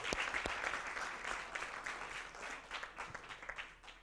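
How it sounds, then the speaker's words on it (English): A standing crowd at a live-streamed talk claps for itself, fairly quiet applause with some distinct individual claps, tapering slightly toward the end. "Now give yourselves a round of applause."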